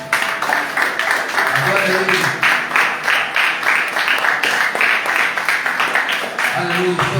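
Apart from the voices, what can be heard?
church congregation applauding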